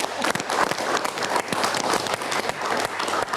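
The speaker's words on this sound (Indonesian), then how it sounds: "kita berikan tepuk tangan dulu" A television studio audience at a political talk show breaks into applause, a dense roar of many clapping hands with distinct sharp claps popping out, steady and fairly close for several seconds.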